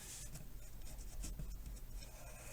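A pencil sketches the outline of a flower petal on paper for a Valentine pop-up card, giving a soft, steady scratching and rubbing that rises in a few brief strokes, close up and with no voices.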